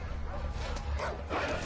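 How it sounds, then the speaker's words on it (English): A dog barks in the video game Far Cry 4, a couple of short yappy barks in the second half, heard over a dense game background with some voice mixed in. "Oh, that's a dog."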